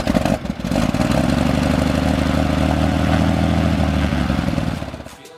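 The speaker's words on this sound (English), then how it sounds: "First start with our new engine in 3, 2, 1." Piper Malibu PA-46 aircraft starting its newly installed engine for the first time, a loud close rough clattering roar that catches quickly, runs steadily for several seconds, then winds down.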